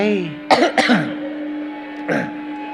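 A few short, sharp coughs or throat-clearing bursts close by, two in quick succession and then one more after a pause, over a steady background hum.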